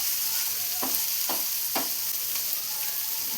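Chicken pieces frying in a pan, seasoned only with chilli powder, turmeric and salt, give a constant close sizzle, with three brief scraping stirs near the middle.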